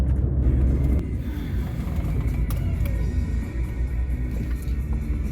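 A Mini R50 with a short ratio gearbox accelerates in a steady pull, its low engine rumble droning continuously from inside the cabin with no speech.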